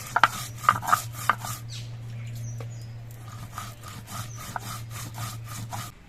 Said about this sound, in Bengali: এবার অল্প করে কিছু জিরে বেটে নিচ্ছি